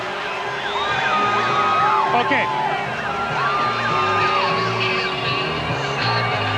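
Stadium crowd at a CFL football game in Calgary, Stampeders hosting the BC Lions in 1993, roaring and cheering steadily throughout, with whoops and yells rising out of the din and a brief voice on top.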